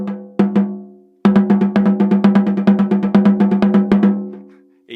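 An uneven double stroke roll played on a snare drum with the snares off gives hollow, ringing taps, close and loud. A few strokes come first, then a pause, then a sustained run of paired hits with uneven spacing and accents.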